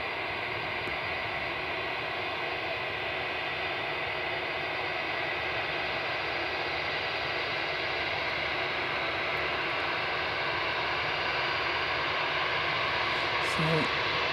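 An ATR turboprop airliner arriving from Wellington goes around, heard as a steady, fairly distant engine roar with broadband rushing noise that holds throughout, no talk.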